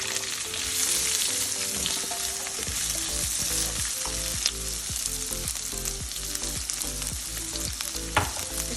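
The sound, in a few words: sliced onions frying in a pan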